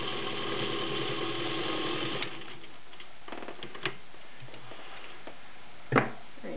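A vintage Electro Grand Class 15 clone sewing machine stitches through five layers of Levi's denim with a size 16 needle, a close, steady motor whir that breaks into softer, irregular clatter and a few knocks as it slows.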